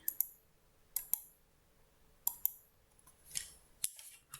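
Coloured pencils clicking and clattering against each other and a tabletop in short, sharp bursts, several quick clicks in clusters with quiet gaps between, close by and moderately faint.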